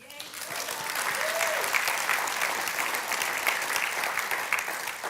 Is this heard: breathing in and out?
no